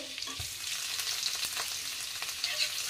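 Ginger garlic paste frying in a pan for pav bhaji, a soft, steady sizzle with a few light stirring scrapes, close and fairly quiet, no voices.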